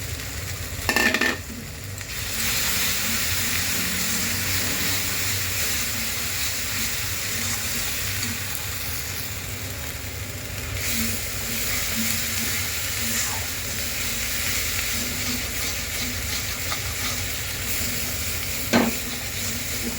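Ground spices for palak paneer, including cumin, coriander, chili powder, salt and turmeric, fry in a pan, giving a continuous soft sizzle with occasional stirring scrapes and clicks throughout.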